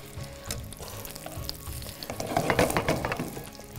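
Kebabs fry in a pan with a steady, close sizzle and crackle that swells louder toward the end, with no voices over it.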